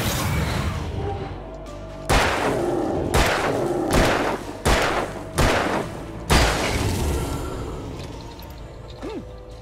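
Gunshots in the video game Alan Wake: six heavy, booming shots spaced about a second apart, each loud and close with a dull thud and short reverberant tail.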